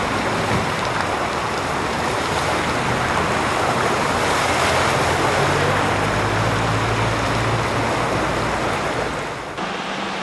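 Floodwater from heavy rain and overflowing sewers rushes down a street in Argos, Greece, a loud, constant roaring wash close by that runs unbroken throughout and drops slightly at the very end.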